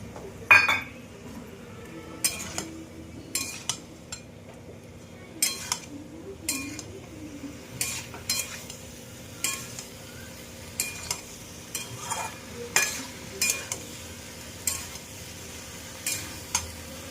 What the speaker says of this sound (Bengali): ভাজা ভাজা হয়ে গেছে বন্ধুরা